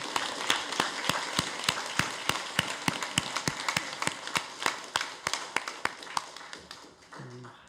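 Applause from a church congregation for the parents of high-school exam students, sounding as sharp, uneven claps that thin out toward the end, with a brief voice at the close.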